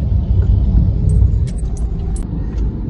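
A car drives through busy city traffic in Karachi, its low engine rumble and road noise steady and close throughout, with faint higher clicks and rattles scattered on top.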